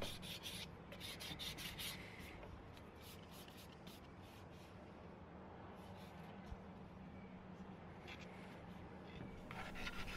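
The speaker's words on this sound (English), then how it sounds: "I used a flat surface to sand all of the edges and all of the detail areas." Steady abrasive rubbing of sandpaper over cured epoxy on a carbon fiber sword, worked against a flat surface along edges and detail areas, continuous scratchy strokes with brief brighter bursts, close and alone.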